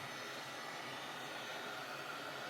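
A hot air rework station blows a steady, even rush of air beneath a chip on an Xbox 360 slim board at raised airspeed, a continuous close hiss with no breaks.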